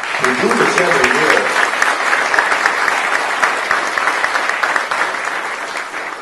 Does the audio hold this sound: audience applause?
yes